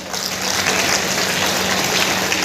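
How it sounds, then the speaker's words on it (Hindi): Crowd applauding a welcome at a Kashi Vishwanath model unveiling event, a steady dense wash of clapping, loud and continuous with no distinct individual claps. "जोरदार तालियों के साथ स्वागत"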